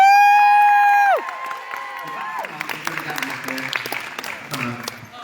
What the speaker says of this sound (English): So really, a round of applause for my son Elliot.